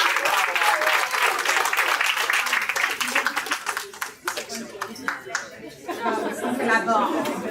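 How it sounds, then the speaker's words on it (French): Steady applause from an audience at a French-language media conference fills the room, dipping briefly midway before swelling again, with some chatter mixed in. "une bonne main d'applaudissement pour le micro-marché"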